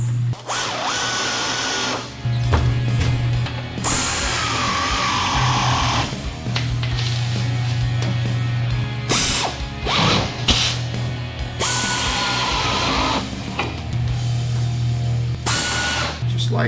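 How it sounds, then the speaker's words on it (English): An air ratchet wrench tightens a strap on a tank in bursts of loud, buzzing rattle, with short pauses and a constant low compressor hum between them and brief talk mixed in. "I've got a air ratchet wrench here."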